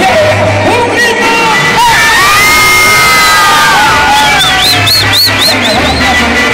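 At a live concert the crowd roars and shouts, with loud cheering, whoops and high yells swelling and dipping over several seconds, close and full.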